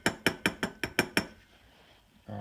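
Seven quick, evenly spaced light metallic taps from a small hammer gently driving a part into a 1983 Yamaha Vmax 540 snowmobile carburetor, close and crisp, followed by a pause and a faint low hum.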